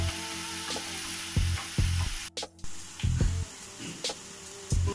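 Prawn stuffing for stuffed pointed gourd fries in a pan with a steady loud sizzle, broken by a few thumps and scrapes as the mixture is stirred.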